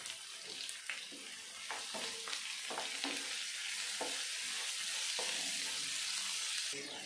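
Chopped tomatoes with salt and turmeric fry in hot oil for a tilapia curry, a steady sizzle running throughout with scattered stirring scrapes and clicks from a utensil in the pan, close and unbroken, with no talking.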